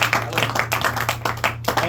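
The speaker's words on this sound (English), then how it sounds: "Shall we give some a round of applause?" A small group of students in a calculus classroom claps briefly, with scattered, uneven claps over a low background hum lasting under two seconds.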